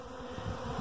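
Honeybee swarm buzzing at a hive box after a two-queen swarm, a continuous close drone of many wings that swells slightly toward the end, with no voices.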